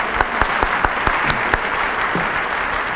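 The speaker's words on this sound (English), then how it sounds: "Let's give Red another round of applause." A television studio audience on a 1950s variety show claps, with sharp individual hand claps standing out over a dense, sustained round of applause, loud and close.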